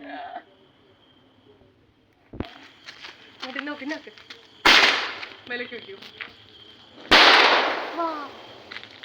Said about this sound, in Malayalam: ഇനി മുതൽ പടക്കം പൊട്ടിക്കുന്ന കുറച്ച് വീഡിയോ കാണാം